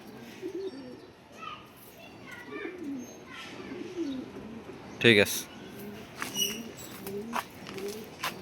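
Pigeons coo in a loft kept by two brothers and raised for a 42-kilo tournament: soft, low, repeated burbling coos run throughout. Someone talks over them, and a sharp click cuts in midway.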